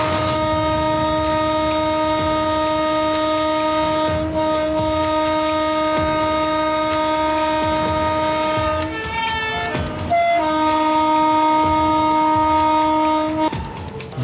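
An Indian Railways train runs through dense fog as heard from inside the engine cab, a loud continuous rumble under long sustained horn tones, with a brief shift in the horn partway through.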